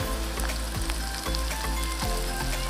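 Onions and tomato frying in hot oil in a home kitchen pan, a steady close sizzle and crackle with periodic low scraping thuds as the mixture is stirred, no voices over it.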